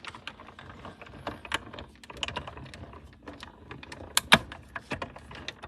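A Mighty Mini die-cutting machine cuts a circle, giving quiet, irregular clicks and sharp mechanical ticks with a few louder snaps near the end, close by and without speech.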